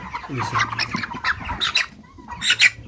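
Broiler chickens and a rooster, 42 days old, squawk and cluck loudly in a burst of overlapping calls while being caught and weighed on a farm, with a short lull before a final sharp squawk.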